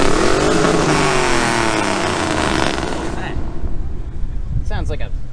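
Loud, roaring car engine revving hard at a Mustang car meet, a sustained rising and falling growl that drops off partway through, followed by a distant engine and faint voices in the background.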